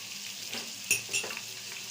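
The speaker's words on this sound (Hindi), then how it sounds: "इसे भी मैं ज़रा सा भून लूंगी ताकि इसका जो कच्चापन है वो चला जाए" Chicken with garlic-ginger paste frying in a pan, a steady soft sizzle with two brief stirring scrapes near the middle, close and fairly quiet, no talking.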